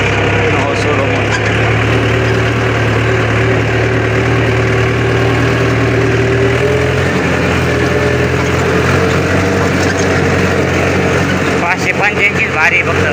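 A Mahindra 585 tractor engine runs at a steady idle with a loud, constant low rumble, its pitch dropping slightly midway while people talk nearby.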